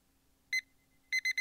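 An electronic alarm goes off inside the video game John Doe: a single bright beep, a pause, then three quick beeps in a row, clear against a faint steady hum.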